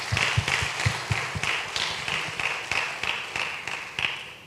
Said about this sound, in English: So let's give these guys a round of applause for their hard work.